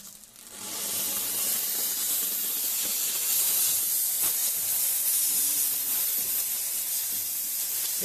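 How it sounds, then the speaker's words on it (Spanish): Steam cleaner blasting a dental prosthesis: a continuous loud, close hiss of jetting steam starting abruptly and holding steady for several seconds, with no speech. "vamos a seguirlo a Daniel para la limpieza con vapor"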